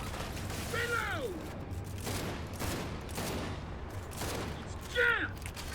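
Metallic clicks and ratcheting mechanical clatter of a weapon being reloaded in Gears 5, spread across a few seconds over a steady game rumble, with a couple of short animal-like calls in the background.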